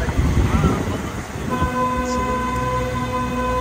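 The Darjeeling toy train passes close by on its narrow mountain track, a continuous rumbling roar of wheels and carriages, joined midway by a sustained tonal horn blast that holds to the end.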